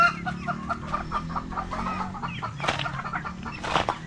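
Several chickens cluck softly and repeatedly nearby, a busy irregular chatter with a few sharper calls standing out.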